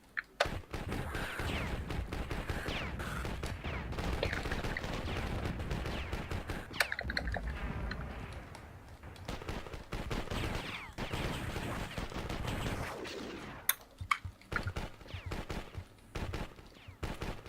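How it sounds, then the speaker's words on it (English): Rapid bursts of machine gun fire from the Avara video game, sustained and dense through most of the stretch with sharp impacts and a brief lull near the middle. "it's so hard to hit with just the machine guns"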